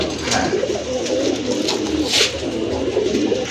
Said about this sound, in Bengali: আরেক জোড়া কবুতর দেখতে পাচ্ছেন বোম্বাই কবুতর বিগ সাইজের কবুতর